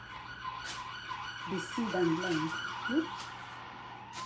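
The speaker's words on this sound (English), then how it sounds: "whenever they pass, you hear the siren." A wailing emergency siren from a vehicle passing on a nearby road rises and falls in the background while a person talks nearby, the siren carrying steadily through the whole stretch.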